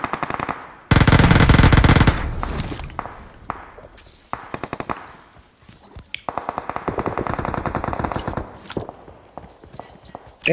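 Rapid bursts of machine gun fire in PUBG, loud and sustained, broken by short pauses and scattered single shots.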